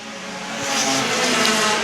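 Pure stock race cars roar around the Star Speedway oval in a feature event, a dense, steady engine drone that swells and stays loud with a faint tire hiss, no voice.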